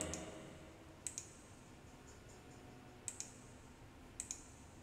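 A mouse clicks End Task in a laptop's Task Manager, producing three pairs of quick, crisp double clicks spaced out over a quiet background hiss, close and faint, with no talking.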